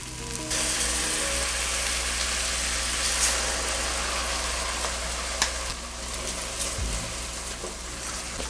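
A hot pan being deglazed with Goya red wine for marinara sauce gives off a loud, dense sizzle that holds steady throughout, with faint scraping and no talk over it.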